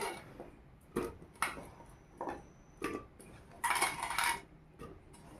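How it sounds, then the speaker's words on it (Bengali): Cut jackfruit and potato pieces dropped into a metal pressure cooker, giving a few separate clinks and knocks with a louder rattling clatter near the end, close by and with no talking. "কুকারের মধ্যে দিয়ে দেব কেটে ধুয়ে রাখা এঁচোড় আর আলু"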